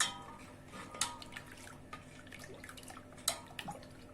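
Milk is poured into boiling sugar syrup with a squeeze of lemon and stirred, making a faint, close trickle with soft drips and light splashing clicks.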